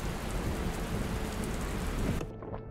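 Rain in the post-apocalyptic business game Dustland Delivery, a dense steady hiss of rainfall with low rumbling that cuts off abruptly near the end.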